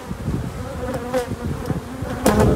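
Honeybees hum around an open, well-populated hive, a dense close buzzing that swells and fades as individual bees pass near, with a louder surge at the end.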